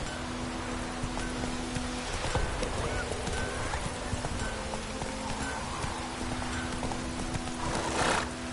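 Roach the horse galloping in a video game, steady clip-clop hoofbeats running throughout with a whinny near the end, over faint rain and low background tones; no talk.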